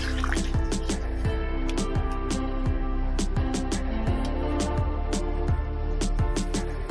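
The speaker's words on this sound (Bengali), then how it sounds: "মশলাটা ভালো করে কষানো হয়ে গেছে, আমি জল দিয়ে দেব।" Water poured into a pot of cooked spice paste, heard as a continuous close splashing and bubbling with rapid dripping and gurgling throughout.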